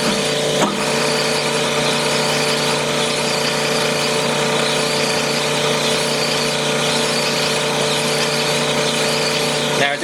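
A connecting rod being honed on a mandrel with oil flowing, using a pedal-driven honing machine. A loud, steady mechanical whine and hum with tonal grinding lasts the whole time after a brief knock at the start, with no talk.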